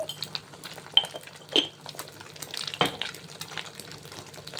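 Spices being stirred into egg Schezwan noodles in a pan: a spoon scrapes and clinks against the metal in irregular strokes over a soft sizzle, close and moderately quiet, with no voice.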